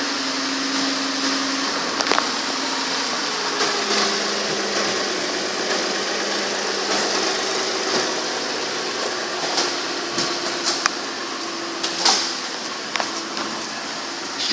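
A 2008 Ford Taurus SEL engine runs steadily at a low, even idle, heard close with faint clicks and handling noises over it.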